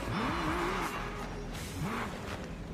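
A Toyota Supra MK4 drifts through a narrow lane in a racing game, its engine note rising and falling in two swooping revs over a steady hiss of tire noise, close and continuous.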